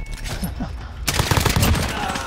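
Warzone gunfire, a sudden loud burst of rapid shots erupting after a moment of low game ambience and continuing densely, close by.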